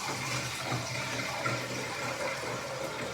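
Water pours steadily into a mixture containing a sharp-smelling medicinal powder, making a continuous rushing, fizzing wash as white foam forms, close and even throughout.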